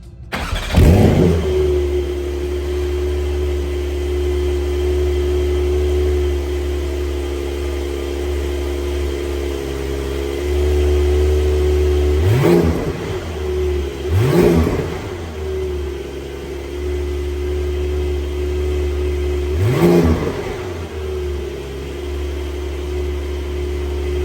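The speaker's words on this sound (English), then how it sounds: "So especially with the valves open or the car in sport or sport plus driving mode, it sounds real good." A 2022 Porsche 911 Turbo S Cabriolet with sports exhaust idles with a loud, steady burble, broken by three sharp throttle blips that flare and fall away, two close together and one later.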